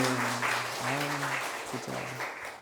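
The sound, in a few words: church congregation applauding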